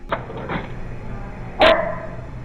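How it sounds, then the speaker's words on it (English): A dog gives two quick barks close by, then after a pause a single louder, sharper bark, with no talking. "making my dog bark."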